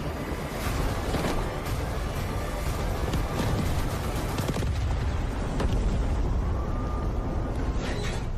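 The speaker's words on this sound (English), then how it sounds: "Hydrogen explosion at reactor 2." A long, rumbling explosion from the Delta Force video game, a hydrogen blast at a reactor, rolls on with heavy booms and crackling debris, loud and sustained for several seconds.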